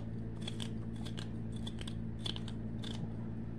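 Scissors snip vegetables straight into a sautéing pan while sweet and sour chicken cooks, giving a run of crisp, close cuts in quick irregular clusters over a steady low hum.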